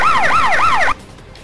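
An emergency vehicle siren in the game Emergency 4 wails loud and close in rapid rising-falling sweeps, about three cycles, then cuts off abruptly, leaving quiet background.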